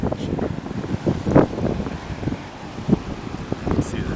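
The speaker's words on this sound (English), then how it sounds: "the wind keeps picking up" Wind blowing steadily during a Wisconsin snowstorm, a rough, gusty rush that buffets the microphone, with some louder gusts.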